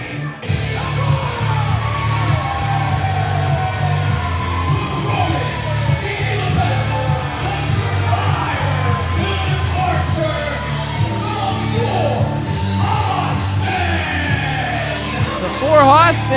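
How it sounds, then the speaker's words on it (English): A pro wrestling crowd on its feet roars, yells and whoops continuously and loudly, with shouting voices layered through a dense wall of cheering from start to finish. "this crowd is on their feet. I can't even hear myself think right now"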